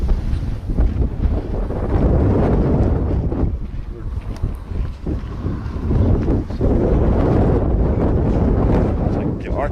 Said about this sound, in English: That wind is killer.